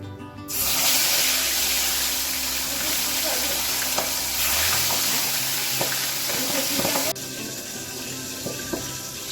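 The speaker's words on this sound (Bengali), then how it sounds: "শিঙি মাছগুলো ভাজা করতে বসিয়ে দিলাম আর তেলে ছেড়ে সাথে সাথে ঢেকে দিয়েছি" Singi fish frying in hot oil in a pan, a loud continuous crackling sizzle with occasional pops, dropping to a quieter sizzle near the end.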